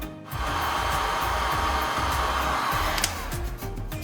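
Heat gun blowing a steady rush of hot air over a plastic headlight treated with acetone, continuous and close, with faint clicks and handling noises beneath the airflow.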